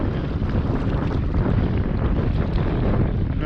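Steady, roaring wind buffets the microphone at a reservoir dam wall, with a constant low rumble and a possible hint of water lapping beneath it and no voices.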